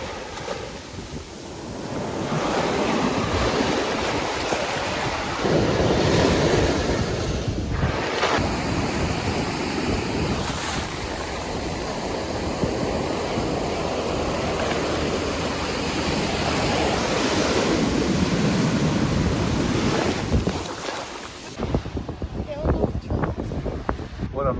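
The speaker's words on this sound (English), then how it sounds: "how quickly and easily the waves came right up to waist height" Pacific Ocean waves surge onto the sand at Venice Beach, California, close and loud. A sustained roaring wash builds, rolls and recedes, with wind buffeting the microphone throughout.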